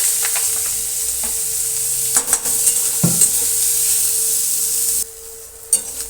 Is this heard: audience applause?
no